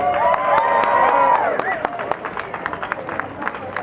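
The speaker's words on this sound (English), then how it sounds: "Give them another big round of applause" Crowd applause at a comedy hypnosis show at a harvest moon festival, with scattered claps and cheering under the hypnotist's voice.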